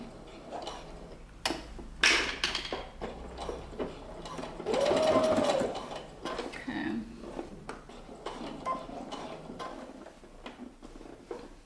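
A sewing machine runs in short bursts while stitching a sportswear set of trousers, top and jacket, its ticking mechanical whir close and moderately loud, with a few sharper clicks and a voice talking intermittently.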